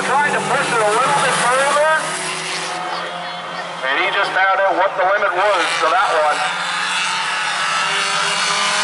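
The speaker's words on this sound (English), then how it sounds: "Giving her a few shots of gas there." An outlaw race car engine revs in short bursts of throttle during a dirt-track semi-feature race, roaring loud and close, with a commentator talking over it throughout.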